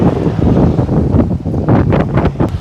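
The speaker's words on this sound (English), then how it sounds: "Good to see that wind's died down a little bit as well." Strong gusty wind on a golf course buffets the microphone, loud rumbling roars that swell and ease over a few seconds with no talking.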